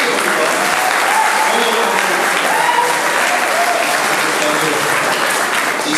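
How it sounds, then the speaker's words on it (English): Dense, steady applause from a church conference audience at a grand finale event, loud and continuous for the full stretch, with some overlapping voices and cheering beneath the clapping. "May we please give a round of applause to each of you."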